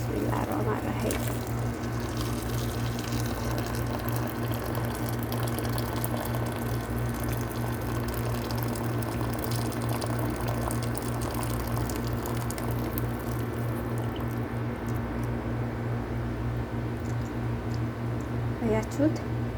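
Water boils in an iron pot while garlic cooks, giving a constant low bubbling hiss with a steady hum that lasts throughout, close and even.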